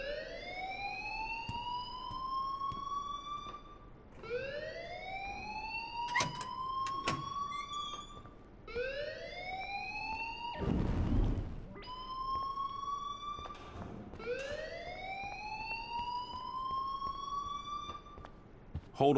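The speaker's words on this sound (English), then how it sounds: "please turn off that alarm since that's your job" An alarm rings in the video game Life is Strange Remastered, a repeating rising electronic siren-like wail in four cycles, steady and prominent, with a brief burst of noise midway.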